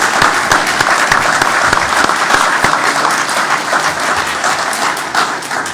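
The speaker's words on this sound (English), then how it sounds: "Let's give them a big round of applause" Crowd applause at an outdoor groundbreaking ceremony for state and local leaders, a full round of many hands clapping at close range, steady and loud, with a few sharper individual claps standing out.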